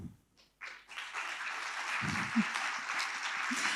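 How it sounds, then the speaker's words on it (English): Audience applause at the Crossing Europe awards ceremony in 2021, honouring jury members: after a brief pause a steady, dense wash of clapping from a seated crowd swells and holds, loud and continuous, with a few low thumps beneath. "Please stand up and receive your applause."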